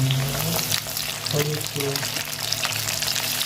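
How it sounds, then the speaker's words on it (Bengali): Potatoes fry in hot oil in a pan, a steady crackling sizzle running throughout at close range while a person speaks briefly over it. "আমি গ্যাসটা তেলটা আগে থেকে বসিয়ে দিয়েছিলাম, তো আলুগুলো ভেজে নেবো আগে"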